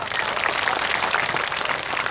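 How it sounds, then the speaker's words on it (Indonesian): Audience applause at an Islamic sholawat gathering in Kauman, Karangrejo, Magetan, a steady dense clatter of many hands for about two seconds, moderately loud with no talk over it. "Selamat datang ke bagian tepuk tangan semua."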